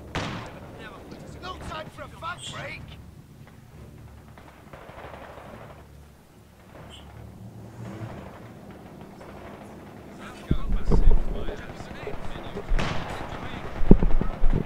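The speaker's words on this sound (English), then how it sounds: "This AT gun is killing my bunker." Anti-tank gun firing on a bunker in the World War II strategy game Company of Heroes 2, winter Nordwind battle: sharp booming shots and impacts, loudest in the second half, mixed with battle noise and a player talking throughout.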